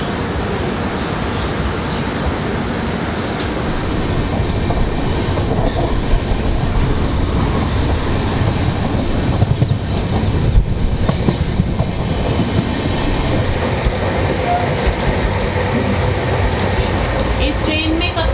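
New Delhi–Ajmer Shatabdi Express rolling along with steady rumble and rhythmic clickety-clack of wheels on rails, loud and continuous, with voices talking faintly over the train noise.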